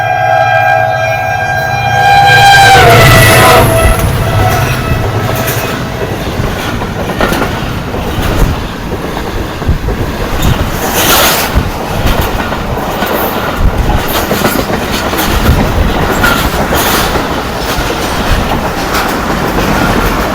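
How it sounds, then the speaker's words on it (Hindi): The 46 Down Pakistan Express passenger train from Rawalpindi to Karachi passes loudly on the down track, a horn call at the start giving way to a steady roar of wheels and rhythmic clatter of cars sweeping past at speed. "आज का पहला एक्शन 46 डाउन पाकिस्तान एक्सप्रेस"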